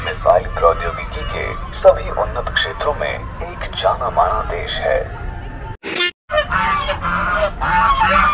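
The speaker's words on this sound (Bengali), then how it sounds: "দেখো কত রাজহাঁস, দেখো সব চলে যাচ্ছে।" Geese honk repeatedly in a noisy chorus at Science City, Kolkata, loud and close, with people talking in the background and a brief dropout near the end.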